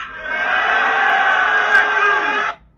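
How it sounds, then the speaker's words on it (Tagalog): A crowd shouts and roars at a Bisaya rap battle, Sak Maestro vs Zaki at Pangil sa Pangil. The dense wall of voices holds steady for over two seconds, then cuts off sharply. "So sigawan ng mga tao doon, no?"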